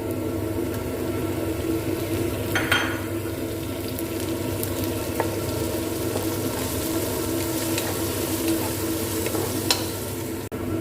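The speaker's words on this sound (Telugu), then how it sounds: "చూడండి ఎర్రగడ్డ, తెల్లగడ్డ, అల్లం బాగా వేగుతుంది." Onion, garlic and ginger fry in a pan with a steady, close sizzle throughout, broken by a few soft stirring scrapes and clinks; no one speaks.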